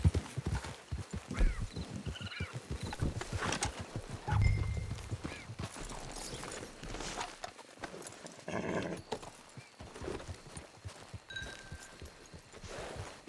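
Horse hooves clip-clop in a steady rhythm through Red Dead Redemption 2 Online as a rider nears a camp, with an occasional whinny and other in-game ambience layered over the trotting.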